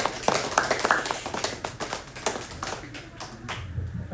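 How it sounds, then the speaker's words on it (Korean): An audience at a book talk applauds to welcome a speaker, a burst of scattered hand claps that is busy at first and then thins and fades over about four seconds. "여러분 박수로 환영해 주시기 바랍니다"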